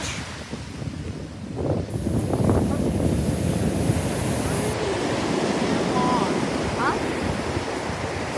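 Ocean waves washing onto a beach, a continuous rushing surf heavily buffeted by wind on the microphone, with faint voices in the background.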